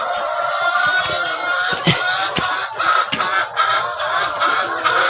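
Laying hens on a farm in Agboville, Côte d'Ivoire, one of them sick, cluck and murmur nearby in a busy chorus, with soft scattered clucks and occasional sharper calls over faint background noise.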